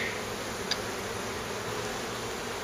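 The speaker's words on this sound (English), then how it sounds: "A lot of bees down here." A dense, continuous buzzing hum of many honeybees in a hive, steady and close, with a faint click partway through and no voices.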